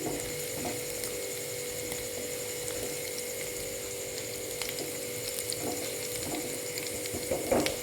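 Garlic and ginger browning in oil in a pan, a steady soft sizzle and crackle with scattered small pops, faint and continuous with no talking.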